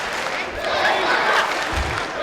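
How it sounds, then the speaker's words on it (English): Crowd at a European Open men's judo event in Warsaw cheering and applauding for a fighter, a dense, steady roar of many voices with a swell near the end. "The crowd is cheering for him"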